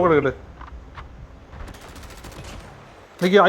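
Rapid bursts of gunfire from the mobile shooter game Call of Duty Mobile, loud at the start and again near the end, with quieter crackle between, while someone shouts excitedly over it.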